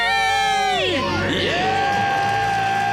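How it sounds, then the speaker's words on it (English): A crowd of people scream together in celebration at being debt-free, a loud, sustained mass shout with a rising and falling pitch sweep that settles into a long held cry. "Let's hear a debt-free scream."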